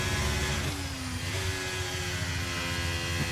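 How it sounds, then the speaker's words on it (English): Ferrari Formula One car engine in a racing video game, a steady high droning whine holding a constant pitch with slight shifts, loud and alone for a few seconds. "Don't like the noise of this Ferrari engine."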